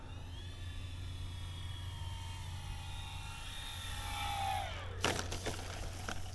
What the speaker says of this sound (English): I hear a plane, so I'm gonna have to come down